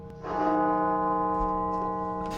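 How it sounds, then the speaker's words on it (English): The funeral bell of Washington National Cathedral tolls a single deep, ringing stroke that hangs and slowly decays, heard alone at a moderate distance. "The Washington National Cathedral tolled its funeral bell 900 times beginning at 5 p.m. today."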